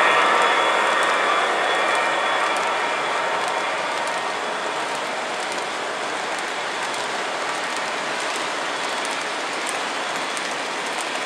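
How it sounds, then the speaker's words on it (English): A Pennsylvania Railroad Class A model train engine runs around its track with a steady, dense mechanical hiss and faint rhythmic ticking, loud and continuous without talk. "Pennsylvania Railroad, Class A, still running real good"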